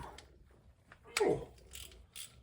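Bolts on a 2004 Honda VTX 1800C crankcase cracked loose with a wrench, a single sharp metallic snap amid quiet faint ratchet clicks in a garage.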